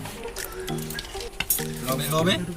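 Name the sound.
potatoes and onions frying in oil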